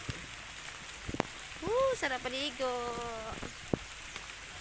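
Rain pouring outdoors during a rain shower bath, a steady hiss and patter running throughout beneath a voice.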